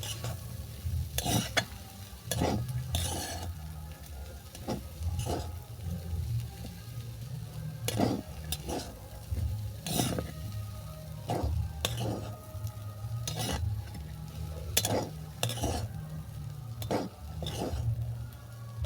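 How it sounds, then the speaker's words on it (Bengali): Fried green beans and potatoes being tossed in a pan, with repeated sharp clinks and scrapes of a spatula against the metal over a soft, steady sizzle. "অল্প করে নেড়ে চেড়ে শুধু মিশিয়েই আমি নামিয়ে নেব।"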